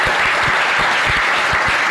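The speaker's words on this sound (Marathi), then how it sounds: "पुरुषोत्तमचा एक वेळा जोरात टाळ्या वाजून" Steady, loud applause from an audience cheering for Purushottam at a gathering, dense rapid clapping sustained from start to finish without talk.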